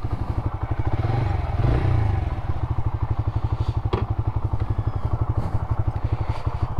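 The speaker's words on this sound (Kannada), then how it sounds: "ಗಾಡಿ ಓಡಿಸೋಣ ಬನ್ನಿ" A Bajaj Freedom 125 NG04 motorcycle ridden along, its single-cylinder engine thumping in a steady, even pulse close by, with a brief rumble and one sharp clatter midway, no voices.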